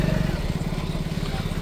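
A motorcycle engine runs close by at a steady throb, its low rumble continuous through the short stretch, mixed with the bustle of people gathered for a marriage function.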